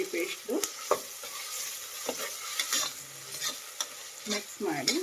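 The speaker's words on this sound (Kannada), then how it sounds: "ಈಗ ಈರುಳ್ಳಿ ಜೊತೆ ಶುಂಠಿ ಬೆಳ್ಳುಳ್ಳಿ ಪೇಸ್ಟ್ ಚೆನ್ನಾಗಿ ಫ್ರೈ ಮಾಡಬೇಕು." Onion fries with ginger garlic paste for tomato biryani, a soft close sizzle broken by repeated scraping strokes of a spatula stirring the pan at an uneven pace.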